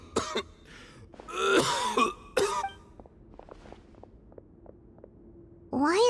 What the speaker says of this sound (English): Why is he coughing so